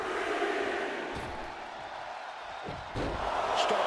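Arena crowd noise from a women's wrestling match in the video game WWE 2K26, a steady broad roar of the audience with a few louder swells and thuds, continuous throughout.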